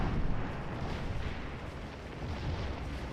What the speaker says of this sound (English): there's that nasty artillery hit